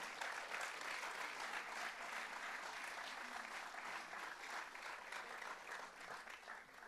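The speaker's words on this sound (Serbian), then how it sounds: "Još jednom aplauz za sve" Festival audience at the Glas Anđela 2016 awards night applauding, a dense, sustained burst of many hands clapping that gradually eases toward the end, with no talking over it.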